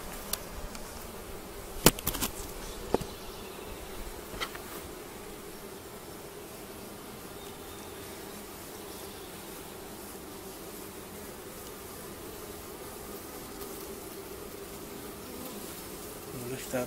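Honeybees buzz steadily from an opened hive split, a dense close hum throughout, with a few sharp clicks and knocks of handling early on.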